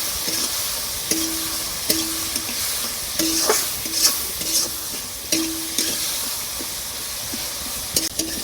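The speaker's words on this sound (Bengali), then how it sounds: "মশলাটা আমি ভালো করে কষাই নিব" Spices for a broiler chicken curry with pointed gourd are stir-fried in a pan, a steady low sizzle broken by repeated scraping strokes of the spatula at an irregular, unhurried rhythm.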